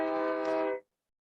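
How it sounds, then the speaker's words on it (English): A train horn blares in one long, steady, tonal blast as a train runs past the Capitol, fairly distant but clear, then cuts off abruptly into silence. "we have a train that runs by at the Capitol here. So that is what the honk you'll hear in the background is"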